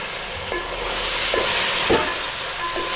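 Beans and onions fry in a pan for a cauliflower curry, with a loud, close, continuous sizzle and a few soft stirring scrapes, and no voices.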